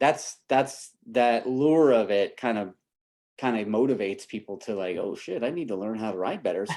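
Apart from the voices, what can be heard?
No everyday noises stand out.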